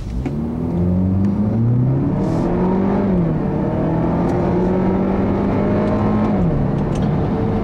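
A 2015 Buick Regal GS with 259 horsepower pulls hard under acceleration, its engine note climbing steadily through the revs, shifting, then rising again, loud and close with no talking.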